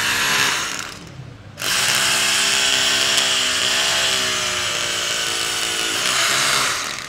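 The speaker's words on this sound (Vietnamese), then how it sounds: "để khoan bê tông thì em sẽ điều chỉnh qua chức năng khoan có búa nha" DeWalt D25144K rotary hammer in hammer-drill mode boring into concrete, a loud continuous grinding rattle that stops briefly, then resumes and runs steadily close to the listener.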